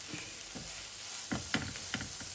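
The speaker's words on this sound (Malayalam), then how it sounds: "എന്നിട്ട് ഇതും കൂടി ഒന്ന് ഇളക്കി വഴറ്റിയെടുക്കണം" Green chillies are stirred and sautéed in a pan while making beef cutlets, with a steady sizzle of frying and a few sharp scraping strokes of the spatula near the end, close and without talk.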